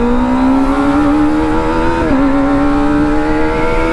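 A Kawasaki ZX25R motorcycle fitted with a big 60 cm bass exhaust holds a steady, loud engine note that rises slowly, dips briefly and climbs again, with no talk over it.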